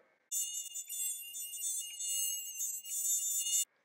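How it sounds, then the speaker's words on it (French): A high, thin mosquito whine buzzing very close, steady with slight wavering in pitch, alone against silence for several seconds. "le vrombissement insupportable d'un moustique près de votre oreille vous alerte de sa présence"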